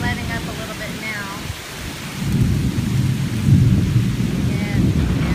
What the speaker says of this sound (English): See how hard it's raining?